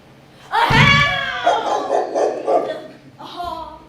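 A hound barks as a theatre sound effect in a stage production of A Midsummer Night's Dream, a loud bark followed by a run of rapid yips and a final shorter bark, close and clear.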